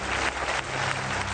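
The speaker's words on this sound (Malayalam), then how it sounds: "അദ്ദേഹത്തിനൊരു നല്ല കയ്യടി." Audience applause for a producer at a televised singing competition stage show, a steady broadband wash of clapping lasting just over a second, moderately loud and continuous with no voices over it.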